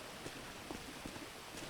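Rain falling in the video game GTA 5 during a car race, a soft, steady patter with scattered faint droplet ticks, heard without talk.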